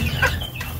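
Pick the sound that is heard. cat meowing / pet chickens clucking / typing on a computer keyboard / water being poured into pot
pet chickens clucking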